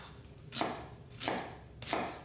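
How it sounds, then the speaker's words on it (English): A knife chops garlic cloves on a cutting board in three distinct strokes, spaced evenly. Each is a crisp, close thud, and the kitchen is otherwise quiet. "So we start off with 9 cloves of chopped garlic."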